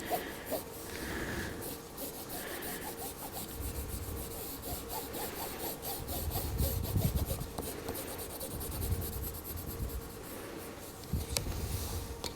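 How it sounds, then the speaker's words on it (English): A pen colours in stripes on paper for a kids' craft, producing continuous close scratchy rubbing strokes in uneven bursts, with no talking. "Okay, so I'm going to colour in my stripes."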